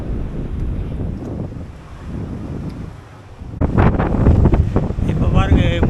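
Strong gusting wind on Kondarangi hill buffets the microphone in a low roar, easing midway before a sudden louder burst, with a voice speaking over it toward the end.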